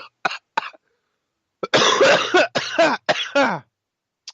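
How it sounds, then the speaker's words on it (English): A few short, sharp coughs at first, then a longer run of harsh, raspy coughing fits, close and loud. "I'm about to cough because I just hit the bowl"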